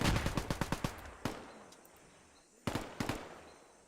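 A rapid string of sharp, loud gunfire cracks opens, followed by single spaced blasts and a second short cluster, each shot echoing briefly, in the Vietnam War strategy game Gates of Hell where an anti-tank gun is being fired.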